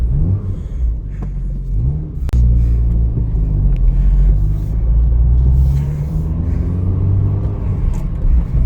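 An old classic car engine, running on poor oil, idles with a deep, steady rumble close by, a sharp click near the start, no voices.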